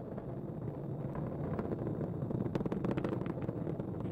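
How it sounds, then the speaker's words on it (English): Falcon 9 rocket engines during launch ascent through maximum dynamic pressure, heard as a steady, distant broadband roar with low rumble and crackling bursts, no voices. "Falcon 9 engines now throttling down to help pass through the period of maximum dynamic pressure"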